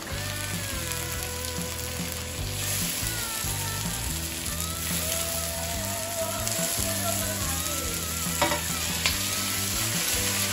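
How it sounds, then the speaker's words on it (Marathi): Onion and tomato frying in a pan for homemade keema give a steady, close sizzle throughout, with scraping stir strokes and a few clinks over the crackle and no talk. "तर आता टोमॅटो टाकते स्वाती."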